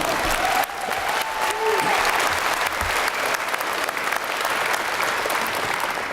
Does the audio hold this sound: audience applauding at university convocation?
yes